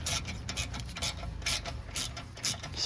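Rapid ratchet clicks in repeated bursts, about every half second, as a 10 mm ratchet wrench backs out the brake bolts on a Mercedes GL450 front brake job; close, crisp and alone.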